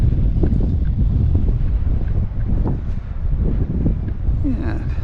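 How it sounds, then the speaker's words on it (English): A steady west wind blows across the mic at the town dock in Bar Harbor, Maine, in February, making a loud, continuous low rumble with no break. "It's a west wind, so as I walk out here further, we'll pick up more wind"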